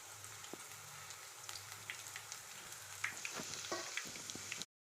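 Spinach fritters (palong shak bora) fry in oil, a few at a time, giving a soft, quiet, even crackle with light pops and occasional utensil taps near the end.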